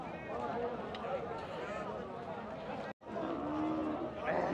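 Cattle low amid a busy crowd at a cattle market, including a large crossbred cow, with people talking throughout and a brief break in the sound near the middle.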